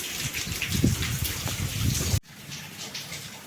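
Steady rain hisses and patters close by, broad and continuous, then abruptly drops to a quieter, thinner drizzle partway through.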